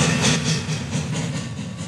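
A locomotive slows under braking on a passenger run in the Rails Unlimited game, a steady rumbling rail drone with faint rhythmic clatter, loud and continuous with no talk.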